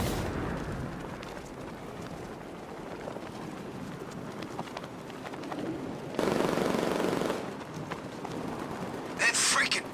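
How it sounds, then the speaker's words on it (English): In Batman: Arkham Knight, the Batmobile's tank mode fires non-lethal rounds. Heavy booming shots and explosive bursts repeat over rumbling combat noise, with voices talking over parts of the barrage. "That freaking bat tank fires non-lethal rounds."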